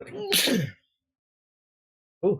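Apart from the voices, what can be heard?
sneeze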